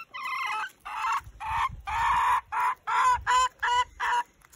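A hen clucks and squawks in a series of loud, drawn-out calls, close by, with soft rustling and scratching underneath.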